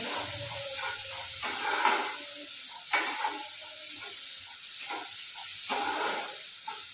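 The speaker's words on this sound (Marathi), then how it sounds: "आता याच्यामध्ये आपण टोमॅटो घालून घेऊ। हे छान परतून घ्यायचं।" Chopped tomatoes sauté in a pan with coriander leaves, a steady, hissing sizzle close up, with a spatula scraping the pan in regular strokes every second or so.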